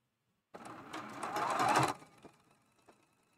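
Sewing machine stitching a seam on a Churn Dash quilt block, one quick burst of rapid mechanical whirring that runs for over a second and then stops, followed by a few faint clicks, no talking.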